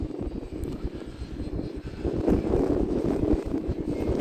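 Arrows Husky Ultimate RC airplane flying in gusty wind, its electric motor droning steadily and swelling louder midway, with rough wind buffeting the microphone throughout and no voices.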